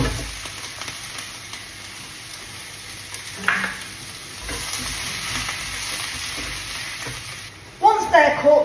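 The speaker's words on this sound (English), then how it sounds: "I'm going to add in some garlic. Give that a good mix and fry those off." Mushrooms and garlic with onions and peppers frying in a pan: a steady, soft sizzle that goes on throughout, broken by brief stirring scrapes and a louder clatter near the end.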